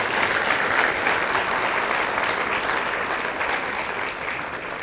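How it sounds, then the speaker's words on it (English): Steady, dense applause from a crowd at a village State of the Village presentation, sustained and even throughout with no voices over it. "Can we have a huge round of applause for them"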